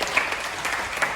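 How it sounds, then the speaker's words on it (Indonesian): A classroom of students briefly applauds a classmate during a poetry lesson, a short burst of dense, moderately loud clapping from many hands with no speech over it. "tepuk tangan untuk Sekar"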